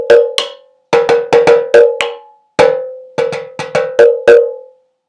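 A homemade drum built from recycled materials is struck in quick clusters of sharp, ringing hits with a bright, bell-like resonance, loud and close, with short silences between groups.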